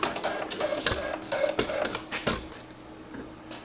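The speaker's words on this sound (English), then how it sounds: "print to the printer." Printer running off a short program listing sent from a Teensy-based DL1416 smart terminal, a rapid run of close, loud mechanical printing bursts and clatter lasting several seconds with no talk.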